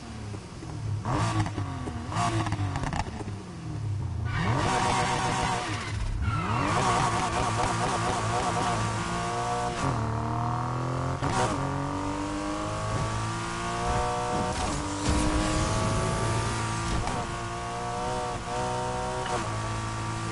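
A car engine revs repeatedly, pitch sweeping up and down in loud surges, continuous and close throughout.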